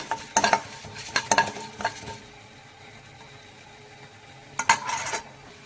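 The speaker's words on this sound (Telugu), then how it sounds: "కొద్దిగా ఆవాలు కొద్దిగా మినప్పప్పు అండి నేను పొట్టుతోంది తీసుకున్నాను ఇదైతే చాలా బాగుంటుంది తీసి బాగా వేయించుకోవాలి" Mustard seeds and husked urad dal frying in oil, with a few bursts of stirring and spatula scraping against the pan, quiet sizzle between them, no talk.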